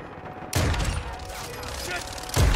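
Victus XMR sniper rifle shots in Modern Warfare 2, two loud close booming blasts about two seconds apart with a ringing tail between them.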